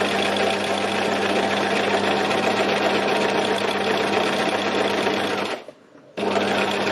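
Sewing machine stitching fabric for a moody landscape piece, a steady close mechanical whirr with a constant hum that stops briefly near the end before resuming.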